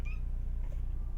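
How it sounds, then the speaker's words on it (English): A house cat gives a short, faint meow right at the start, over a steady low indoor hum with no talking. "Oh no, the cat's here."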